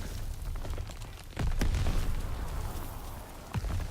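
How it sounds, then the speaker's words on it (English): Grenades detonating in the World War II shooter Call of Duty WWII during a beach battle, with two sharp booming blasts over a steady rumble of combat noise, one near the middle and another toward the end. "maybe it's the grenades going off around him"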